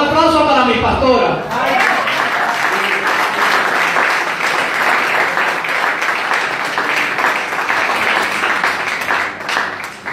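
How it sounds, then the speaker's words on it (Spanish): A church congregation at a youth service bursts into sustained applause after a brief voice, clapping loudly and evenly for several seconds. "un aplauso para mi pastora"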